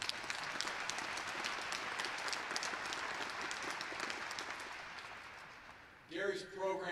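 Applause from the audience at a university press event announcing a football coach's resignation, a steady crowd patter that fades toward the end, where a speaking voice returns.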